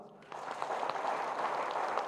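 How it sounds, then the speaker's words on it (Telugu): A crowd at a meditation celebration bursts into applause after a brief quiet start, the dense clapping held steady but fairly soft and distant for about two seconds. "ఇలాంటి గురువులందరికీ చప్పట్లు కొడదాం"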